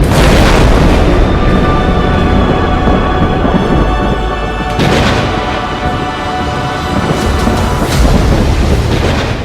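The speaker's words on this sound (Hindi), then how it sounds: "कई बार गरजती है" Heavy thunder from a lightning storm rolls and booms loudly and without pause, with a dense, sustained rumble that swells in waves.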